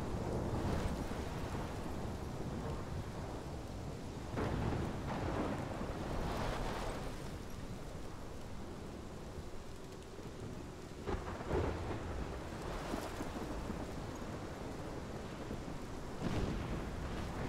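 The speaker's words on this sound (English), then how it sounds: "This is my storm. I caused this." A thunderstorm with rain from the video game Life is Strange: steady heavy rainfall throughout, with rolling thunder swelling several times, loud and close, and no talking.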